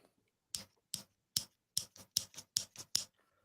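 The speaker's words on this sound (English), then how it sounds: "That's a pair of scissors." A pair of scissors snips repeatedly close up, about ten sharp crisp cuts with short gaps, quickening toward the end, in an otherwise quiet room.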